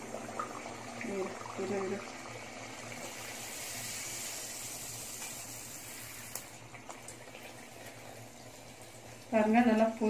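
Athirasam, a sweet rice-flour and jaggery dough, frying in hot oil: a steady soft bubbling sizzle runs throughout, with someone talking over it in places, then a louder burst of crackling near the end.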